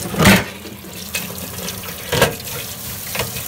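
Water runs from a tap in short splashy bursts while an old grill is washed, close and fairly loud, with intermittent gushes and clatter.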